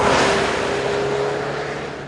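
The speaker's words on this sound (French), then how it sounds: "le bruit de l'échappement est vraiment sympathique" A PGO Hemera sports car's exhaust gives a loud, continuous drone with a steady low tone, fading slightly over a couple of seconds, with no voices.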